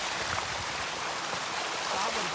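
Heavy rain runs down the old stone stairway on Girnar mountain, a dense continuous rushing wash of water filling the whole clip, with a voice talking over it.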